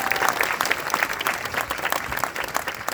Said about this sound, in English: if we could have a round of applause for the whole W&L staff, too